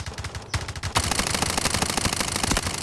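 Rapid automatic gunfire in the Garena Delta Force video game, loud and close, with a short burst followed by a dense, unbroken stream of shots that fills the whole stretch.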